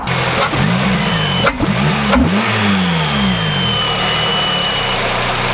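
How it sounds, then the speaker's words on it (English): A Honda Civic Type R FN2 engine idles and revs loudly with a steady high-pitched squeal from a fuel rail fault running through it. "Ignore that squealing noise, it's a fuel rail issue that's reoccurred."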